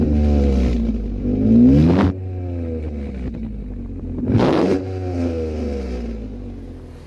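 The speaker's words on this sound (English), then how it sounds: "a little bit of a taste of what the exhaust note sounds like" The V6 engine of a 2019 Chevy Colorado ZR2 revs up twice with rising exhaust notes, each rev snapping off before settling back to a low, rumbling idle, loud and close.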